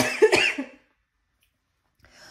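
A short burst of coughing, two or three harsh coughs close to the mic, followed by silence and a faint breath at the end.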